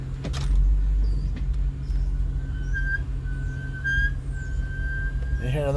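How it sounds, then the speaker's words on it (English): Brakes on a Chevrolet Corvette C6 give a thin, steady high squeal lasting several seconds over a constant low engine and road rumble while the car drives. "You hear them brakes?"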